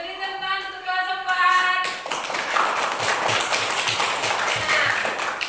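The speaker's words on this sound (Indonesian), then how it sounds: "Beri tepuk tangan untuk kelas 4." A fourth-grade class claps hands in a classroom after a brief voice, with rapid rhythmic clapping that continues steadily for several seconds at close range.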